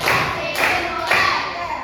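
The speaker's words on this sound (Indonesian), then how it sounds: "Sekali lagi tepuk tangan semuanya biar bergerak" An audience gathered for a teacher-training session claps together in unison, three loud, sharp bursts of hands spaced about half a second apart, with a steady room murmur underneath.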